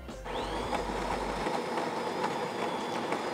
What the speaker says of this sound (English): Now I'm going to click long coffee.